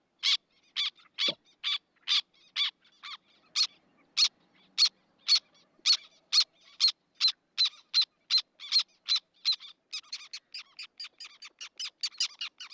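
Black tern flight calls, a rapid series of sharp, short kick notes repeated evenly, clear and close, speeding into quicker clustered calls near the end with no background noise.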